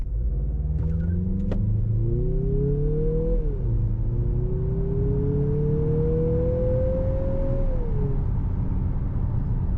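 A Mazda CX-50 SUV pulls hard up a slight grade, its engine note climbing steadily in a long rising drone, then dipping briefly at a shift before rising again, loud and continuous with no talking.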